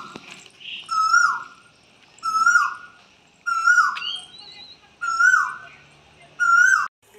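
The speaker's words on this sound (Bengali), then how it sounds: "এবার আপনাদের আবার কোকিলের শব্দ শোনাবো" A koel calls from a peepal tree near a village house, five clear repeated whistled phrases spaced about every second and a half, each rising and falling, with small chirps between and quiet background.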